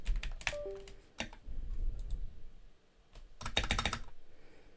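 Computer keyboard typing, close and fairly loud, with bursts of rapid key clicks separated by short pauses, the final flurry the densest, and no talk over it.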